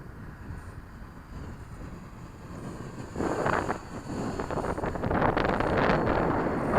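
Light wind rushes across a microphone at an airfield where a model FW-190 is flown, a steady low buffeting that swells louder partway through and stays rough and close.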